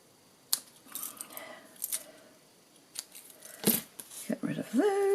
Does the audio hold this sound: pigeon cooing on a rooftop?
no